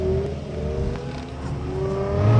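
A RIPP-supercharged Dodge Charger or Challenger accelerates hard, its engine droning steadily and rising in pitch, fairly close and with no one talking.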